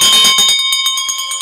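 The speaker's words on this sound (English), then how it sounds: "pick up that bell and give it a ring" A hand bell rings loudly and close, a quick run of bright metallic strikes with a sustained shimmering tone that slowly decays, the rhythm of the swings clearly spaced, no voices over it.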